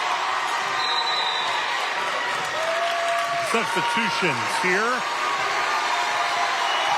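A high school basketball crowd roars for the Bruins as students rise to their feet, a steady loud wash of cheering filling the gym, with a play-by-play announcer talking over it and sneakers squeaking on the court.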